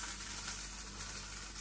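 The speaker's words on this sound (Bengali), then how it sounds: "ওই যে বেকনটা গরম করতেছে। আর এই যে মাংসটা একটু ভেজে নিব।" Bacon and meat frying in a pan give a steady, dense sizzle with a faint crackle, close and continuous with no pauses.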